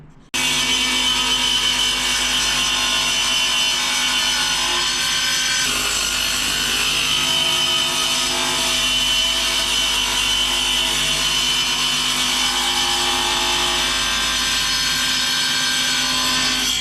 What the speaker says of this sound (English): I can take this, my shelf, and miter both edges.